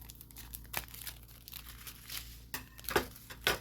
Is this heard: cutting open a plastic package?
yes